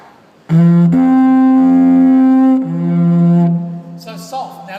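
Didgeridoo blown hard in Indigenous Australian music, producing a loud, sustained buzzing drone with a rising pitch shift partway through and a brief dip in loudness before it fades out.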